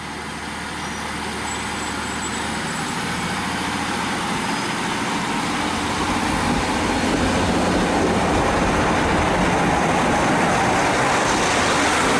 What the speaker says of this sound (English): So it's a class 153 train according to that.